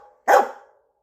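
A single loud bark from a big dog inside a car, sharp onset and a short fading tail, with no other sound around it.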